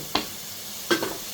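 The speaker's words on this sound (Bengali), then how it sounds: "সব মশলা একসাথে ভালো করে নেড়ে নেব।" Spices frying in a pan with bay leaves and cinnamon for a Bengali muri ghonto made with a catla fish head are stirred in two brief scraping strokes, near and quiet, against a faint low sizzle.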